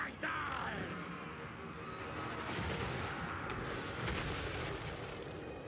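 Skaven artillery fires in Total War Warhammer 3, a booming shot with a rumbling, crackling tail and further distant blasts, moderately loud, amid battle noise.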